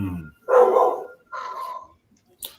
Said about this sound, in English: Every time I talk, the dog get louder.